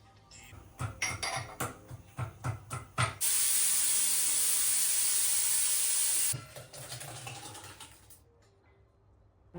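A pressure cooker on the stove lets out a loud, steady hiss of escaping steam lasting about three seconds while vegetable sambar cooks, set between bursts of clattering kitchen noises.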